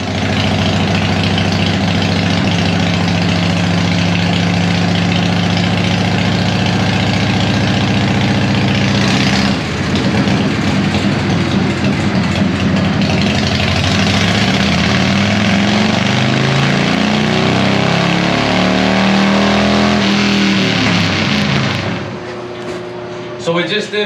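Procharged Harley-Davidson engine running on a dyno, a loud continuous engine roar with rising and falling pitch through repeated pulls, easing toward idle at the end, with a person talking over it.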